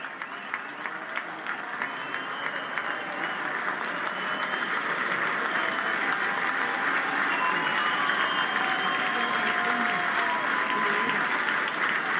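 Big stadium crowd at a Boston Red Sox baseball game against the Tampa Bay Rays, a dense, steady roar of cheering and applause that swells and holds loud for about twelve seconds, with scattered voices and whistles in the mass.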